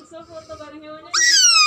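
A hand-held owl at a farmhouse in Lembang, Bandung, gives a single sharp, high, screechy call near the end, loud and close, after a stretch of quiet tonal background sound.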